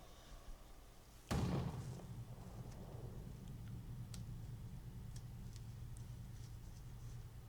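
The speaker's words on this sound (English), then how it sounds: "So, gunshot." A single loud gunshot rings out near the ending of the Call of Cthulhu video game, a sharp blast that decays into a low rumbling ambience with faint scattered ticks afterward.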